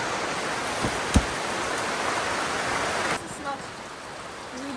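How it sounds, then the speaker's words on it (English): Steady, close rain hiss in Sidemen, Bali, with a couple of sharp clicks, easing slightly partway through as the surroundings change. "I have to walk through the rain now"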